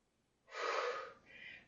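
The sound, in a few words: deep breathing during exercise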